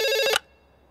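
A telephone rings on speakerphone with a bright, steady electronic ringing tone that cuts off sharply after about a third of a second, leaving near silence.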